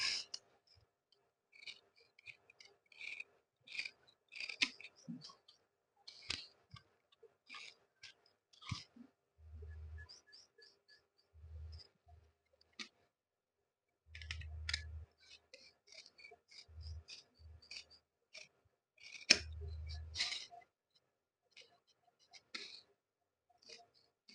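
Scissors cut suit fabric on a tailoring table, with sparse crisp snips and clicks separated by quiet gaps, plus several low dull thumps and a faint soft voice in places.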